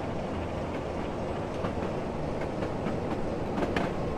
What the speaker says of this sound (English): One of those lovely slam door trains.